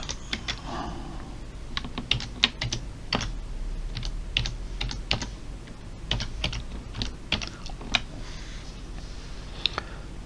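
Someone types a password on a computer keyboard, a close, uneven run of sharp key clicks with brief pauses between bursts, and no one speaks.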